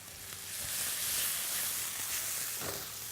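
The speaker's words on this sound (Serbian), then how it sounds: "sipam jako malo vode." Marinated chicken drumsticks sizzling in a pan as a little water goes in, a continuous loud hiss of steam and frying throughout.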